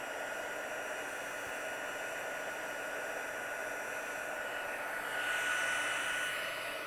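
A handheld heat tool blows steadily over ink on a stamped paper card, a continuous close airy whir with a slight rise in pitch near the end, no talking.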